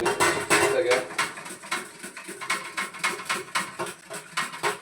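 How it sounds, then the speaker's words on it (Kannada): Potatoes sliced for homemade chips on a metal slicer, producing rapid repeated scraping clatters in an uneven rhythm, close and fairly loud, with kitchen vessel knocks mixed in. "ಈಗ ಆಲೂಗೆಡ್ಡೆ ಇದರಲ್ಲಿ ಸ್ಲೈಸ್ ಮಾಡ್ಕೊಳ್ಳೋದು"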